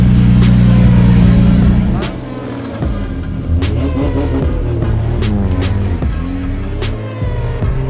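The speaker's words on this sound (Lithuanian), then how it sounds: "Turbo leaving the line. Anti-lag flicked on and away they go." A turbocharged drift car with anti-lag launches hard off the line at the final battles of an Oman drift championship in Sohar, its engine roaring loud and close with rising revs, sharp crackles and pops, and a commentator talking over it.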